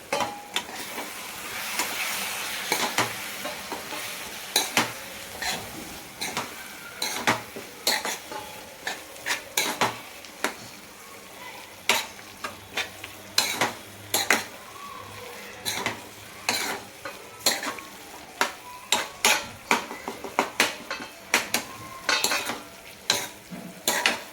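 Curry seasoned with garam masala cooks in a pan, a soft sizzle running under repeated scraping and clinking of a spoon against the metal in an uneven rhythm.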